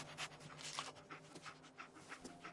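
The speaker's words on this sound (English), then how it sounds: "Dog meat. Get the scent, boy." A dog pants steadily in the Fallout game, with quick rhythmic breaths that sound close and fairly soft, with no voices.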